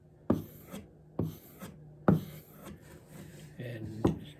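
A chisel is stropped on a leather strap in repeated one-directional strokes, each a short rasping rub, about five passes with a brief pause between them, close and clear.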